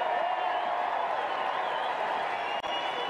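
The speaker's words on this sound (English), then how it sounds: "getting a round of applause from the crowd and a cheer" A crowd at Royal Ascot applauds and cheers the Queen's arrival, a dense, continuous wash of clapping that stays steady and fairly loud throughout.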